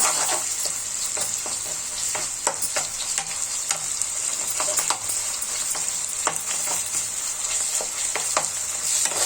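Green chilies and ginger-garlic paste fry in hot oil for a bitter gourd masala curry while being stirred in a pan. A steady close sizzle runs under repeated scraping strokes of the spoon.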